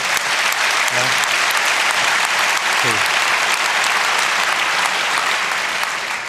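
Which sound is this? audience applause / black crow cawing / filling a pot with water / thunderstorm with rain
audience applause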